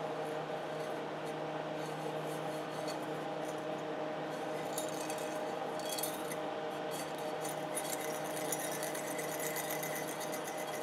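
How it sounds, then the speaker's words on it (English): A continuous, steady mechanical whir with scattered glassy clinks and scraping as a tool cuts through the leaded glass end of a CRT tube to free the electron gun; close and uninterrupted, with no talking. "Now I need to cut the ends of these off to get the electron gun out."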